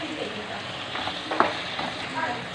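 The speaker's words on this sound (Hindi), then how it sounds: "अब हम इसको फ्राई करेंगे।" Chopped onion, carrot, capsicum and green chili frying in a pan for macaroni, a steady close sizzle with a few scraping stir sounds and one sharp clink, no talking.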